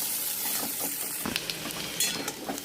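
Onions frying in oil in a home kitchen, a soft continuous sizzle with occasional crackles and faint stirring scrapes, fairly quiet and close.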